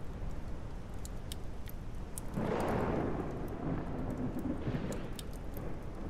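Thunderstorm in the video game ARK Scorched Earth, steady rain hiss with a rolling thunder rumble that swells midway and fades, plus scattered sharp ticks and no speech.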